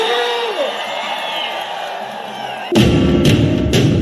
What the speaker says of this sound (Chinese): 用你们最热情的呐喊声和掌声